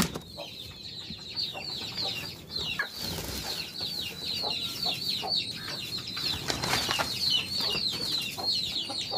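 Chickens and a rooster in a coop give repeated clucks and short squawks close by, with scattered wing flaps and shuffling around them.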